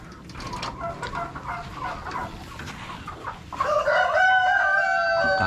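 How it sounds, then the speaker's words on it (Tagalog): Chickens on a farm scratch through rice straw and husks laid in nesting boxes, clucking softly and repeatedly nearby, then a louder, sustained cackling call takes over near the end. "Kinalkal na ng mga manok."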